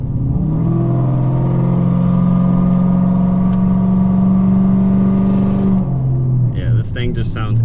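A Dodge Challenger R/T with a 5.7 Hemi, automatic and Texas Speed Stage 3 upgrade, revving hard while driving: a loud, deep, sustained V8 drone with rising pitch, then easing off near the end.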